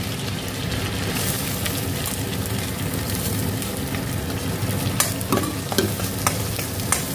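Garlic and green chilies fry in melted butter with bay leaves, a dense, steady close-up sizzle and crackle broken near the end by a few spatula scrapes and taps, with nobody talking.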